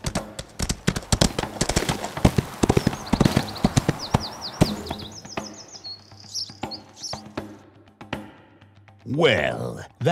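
Horse hooves clip-clop in a quick steady rhythm while riding in the Windstorm video game on Nintendo Switch, loud and close, with bird chirps and whistles over the gait, then a brief snort or whinny near the end; game narration speaks.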